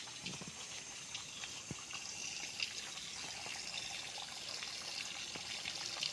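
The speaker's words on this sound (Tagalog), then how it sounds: "Yan na po ang ilog mismo katabi ng property." Continuous rushing water with a steady hiss and occasional splashy bursts, like a flowing river heard from nearby, with no voices.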